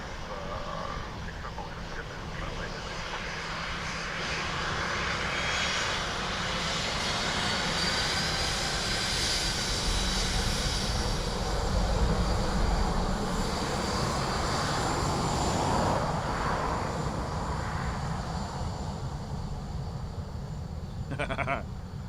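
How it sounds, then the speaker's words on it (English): Lufthansa Airbus A321neo jet airliner at Dublin Airport, a steady broad engine roar that builds gently and holds through the middle before easing slightly, continuous and fairly near, with no talk. "Lufthansa from Frankfurt next, 321 Neo as well."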